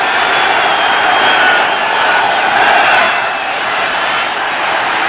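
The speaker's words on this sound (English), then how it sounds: "Crowd is loud." Loud football stadium crowd at a 1985 NFC divisional playoff game, Giants versus Bears, a steady dense roar that holds evenly throughout with no distinct voices rising above it.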